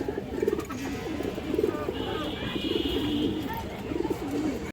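Pigeons coo in soft repeated rolling calls at a pigeon sale, close and steady beneath a seller's voice.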